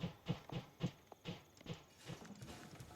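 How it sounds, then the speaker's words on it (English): Hammering somewhere in a house: a steady run of muffled, evenly spaced blows, roughly three per second, faint and in the background. "someone's hammering at my house today"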